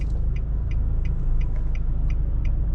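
Steady low road rumble fills the cabin of a 2024 Nissan Navara VE with leather seats, moving in traffic, with a soft regular ticking repeating about three times a second throughout.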